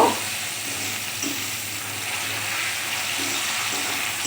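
Potato peels frying in hot oil give off a steady, even sizzle that runs continuously at close range, with a brief louder crackle at the very start as they drop into the pan.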